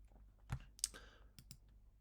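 A few soft, quiet computer mouse clicks, scattered and close, with brief taps in a near-silent room.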